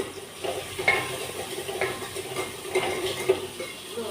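Spices are stirred into rice in a pot, with soft scraping and light clinks of a spoon against the pot over a faint low sizzle, close and fairly quiet.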